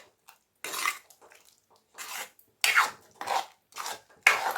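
Ash gourd kootu with moong dal being stirred in a pan, giving repeated scraping, rasping strokes in short bursts with quiet gaps between them, close and moderately loud.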